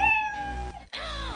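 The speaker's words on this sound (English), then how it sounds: "Aw, it's a cat." A cat gives two clear meows in quick succession, close and fairly loud, with a short gap between them.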